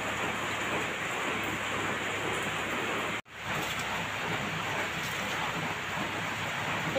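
Rain falls steadily outside all around, a dense even hiss close by with a brief dropout partway through, no talking.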